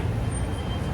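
Broadband hiss and low rumble of a road vehicle, likely a bus with an air-brake release, close and steady for about a second at a stop in Tirana.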